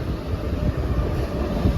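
A Mumbai local train runs with a steady, loud low rumble and rattle, continuous throughout with no talking.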